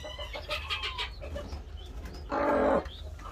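Chickens squabble in a farmyard coop, a Sussex hen among them, with repeated clucks and squawks and a sharper, louder burst of agitated cackling near the end, heard close and without talk.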